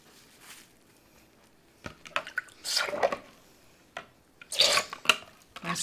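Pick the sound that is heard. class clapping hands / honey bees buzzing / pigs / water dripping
water dripping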